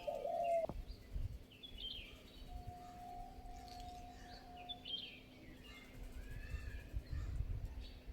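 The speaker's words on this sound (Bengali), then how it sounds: "ক্যামেরা অন করার তিন মিনিট পর থেকেই পাখি আসা শুরু করলো" Birds, including parakeets, chirp and coo softly on a rooftop, with scattered tweets and low cooing spread across a calm, faint background.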